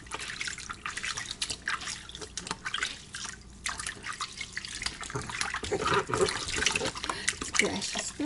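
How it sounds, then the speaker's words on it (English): Water splashing in a baby's bath, soft irregular drips and splashes close by, fairly quiet, with bits of voice mixed in. "Always splashy, splashy."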